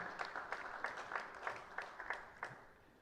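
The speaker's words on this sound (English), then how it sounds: "Another round of applause for Chief Olusegun Osunkeye," Audience at a university public lecture clapping for the event chairman, quiet and distant, a few sharper claps standing out from the patter.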